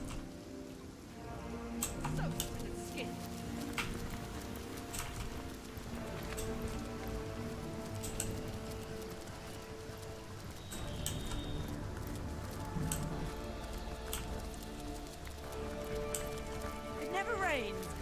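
Steady rain falling in the fantasy role-playing video game Divinity: Original Sin, a continuous dense patter under soft game music and ambience, moderately quiet throughout.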